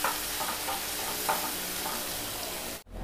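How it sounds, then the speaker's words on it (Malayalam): Onions sautéing in a pan, a continuous close sizzle with faint stirring clinks that drops out briefly near the end. "അങ്ങനെ നമ്മളെ ഉള്ളിയൊക്കെ വഴന്ന് വന്നു"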